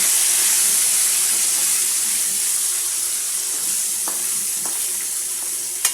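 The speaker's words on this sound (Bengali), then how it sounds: "আলুগুলোকে ভেজে নিচ্ছি" Potatoes frying in oil for beef biryani on a cylinder gas stove, a steady broad sizzle that holds evenly throughout with a few faint clinks near the end.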